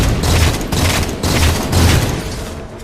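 Loud, rapid bursts of gunfire mixed with a booming grenade explosion in Halo 4 multiplayer, dense and continuous with rhythmic pulses across the whole stretch.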